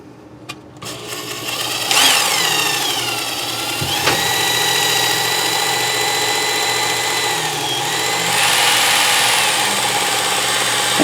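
A Work Sharp Ken Onion knife sharpener runs its belt while a blade is stropped. The motor gives a continuous whine that steps up in pitch and speed partway through, with light rubbing and scraping from the blade on the belt.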